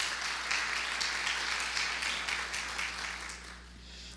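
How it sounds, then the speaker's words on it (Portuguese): A church congregation applauds together in steady, dense clapping that holds for several seconds before easing slightly near the end, with no voices standing out. "Vamos aplaudir a Jesus por isso?"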